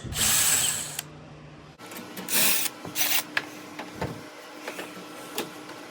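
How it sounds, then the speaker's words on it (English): Screws being removed from the evaporator of a Viking beverage center: a short whir of a powered screwdriver, then a few rattling mechanical clicks and scrapes at close range. "now I'm gonna remove these two screws"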